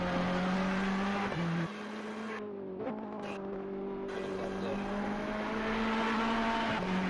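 Continuous high-revving racing car engines from a racing video game at the Nürburgring, whining at a steady pitch with brief gear shifts and dips, loud and unbroken throughout.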